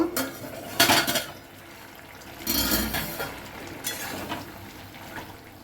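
Metal pot lid lifted off a pot of potato and drumstick curry simmering on the stove, giving a few sharp clanks and clatters of metal on metal, close and fairly loud, with quieter bubbling in between.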